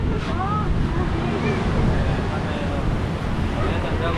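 Waves roll onto the beach at Pantai Padang in a steady, loud wash of surf mixed with wind buffeting the microphone, with people talking faintly in the background.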